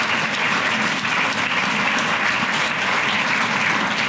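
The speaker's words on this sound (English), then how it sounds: "Let's give him a round of applause." Audience at a State of the City address giving a round of applause, a broad, even wash of many hands clapping at steady loudness throughout.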